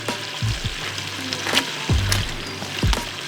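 Food fries on a stove with a loud, close, steady sizzle, joined by a few low thumps and scraping knocks as it is moved around the pan.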